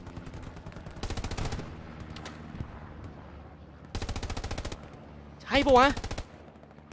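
Machine gun fire in the World War II shooter Hell Let Loose rattles out in two rapid bursts about a second long each, close and loud, with someone speaking briefly between them.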